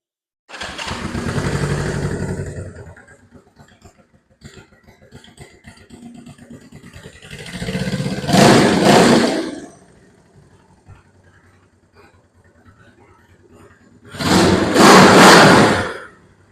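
A Honda CB360 motorcycle engine fires up in three loud bursts of running and revving, each lasting a couple of seconds and separated by quieter stretches of low idle or mechanical noise.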